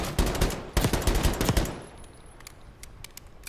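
Video game pistol gunfire: a quick string of loud, sharp shots in rapid succession, then sparser scattered shots fading into quieter background, no talking.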